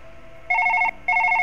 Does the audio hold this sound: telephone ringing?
yes